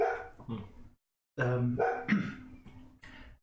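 A dog barking, heard as a few loud close barks in two bursts separated by a brief pause, with some growly, whimpering tones and no clear speech.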